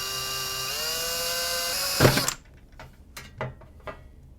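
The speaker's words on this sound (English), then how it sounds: "Maybe it'd be easier to drill it." A power drill whines steadily, its pitch rising as it spins up, then cuts off abruptly, followed by a few sharp clicks and knocks.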